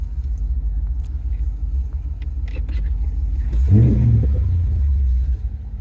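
A supercharged 2007 Corvette coupe engine with an Edelbrock E-Force supercharger, about 600 hp, rumbles deeply at idle, then revs up with a throaty surge before settling into a steady growl.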